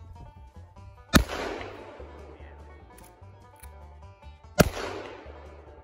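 Two loud, sharp shots from a Henry Axe .410 gauge shotgun ring out about three seconds apart at close range, each followed by a brief rolling echo, with a quiet background between them.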